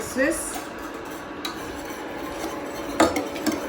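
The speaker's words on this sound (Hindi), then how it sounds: "और अब हमने इसको करना है विस्क" Whisking a homemade pumpkin spice latte mixture in a pot: a whisk scrapes and clinks against the metal in scattered strokes, with a louder knock near the start and a cluster of clinks toward the end, over a quiet kitchen.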